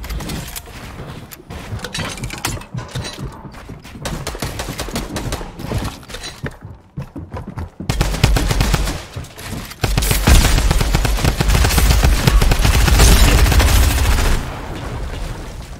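Sustained automatic gunfire in a battle royale video game, rapid dense volleys growing louder and more continuous in the second half, with no talking.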